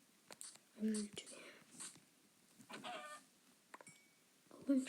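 A Minecraft chicken gives a couple of short, clipped clucks, one near the start and another at the very end, mixed in among soft spoken and whispered voices.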